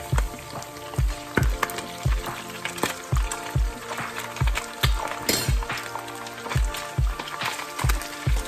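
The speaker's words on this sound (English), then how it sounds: "because I'm cooking in a lot of oil, they're not sticking to the pot" Fish frying in a pot full of hot oil for a Jamaican-style meal, with continuous sizzling and bubbling, some clinks, and repeated low thumps in a steady rhythm.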